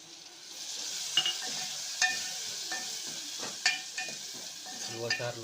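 Onion, tomato and green chili fry in a pan with a soft, continuous sizzle, punctuated every second or so by sharper clinks and scrapes of a spoon against the metal.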